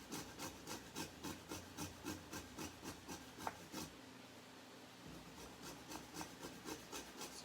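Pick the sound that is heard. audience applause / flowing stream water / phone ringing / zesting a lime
zesting a lime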